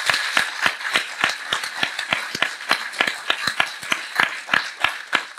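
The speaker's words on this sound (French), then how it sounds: "qu'on peut peut-être applaudir" Applause at a closing ceremony, heard as fairly sparse, distinct hand claps in a quick uneven rhythm, close and clear, as though from a modest group.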